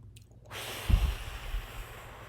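A person takes a deep breath during a wellness breathing exercise: a sharp inhale, then a long, airy exhale close to the microphone, with no talking.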